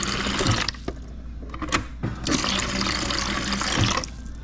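Water runs steadily from a refrigerator water-tank line into a bucket, a continuous close splashing flow with brief dips and surges and no spurts.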